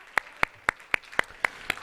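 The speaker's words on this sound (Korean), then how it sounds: "우리 주님께 영광의 박수 올려드리겠습니다" A single person in a Korean church claps seven times in a slow, even rhythm as glory is given to the Lord, close and distinct over a quiet background.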